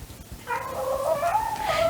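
A female cat in heat gives one long, drawn-out, wavering meow that rises and falls for over a second, close and fairly loud, with no talking over it.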